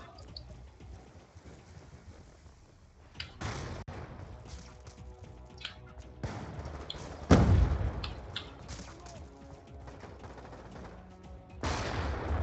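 Gunfire in the shooter game Black Ops 2, with scattered shots and bursts through the clip, a loud close burst near the middle and more toward the end, over a low rumbling game background.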